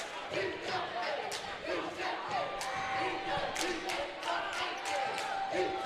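Basketball arena crowd at a men's college game reacting with loud, sustained murmuring and jeers to a foul call, squeaks and thuds of play and scattered voices mixed throughout.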